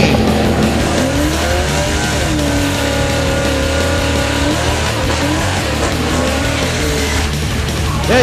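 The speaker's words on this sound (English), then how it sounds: "you got to love it when they whack the throttle like 10 times coming out of a water box" A drag race car at Great Lakes Dragaway, loud and continuous, its engine revving and rising and falling in pitch with tire noise, heard close and uninterrupted throughout.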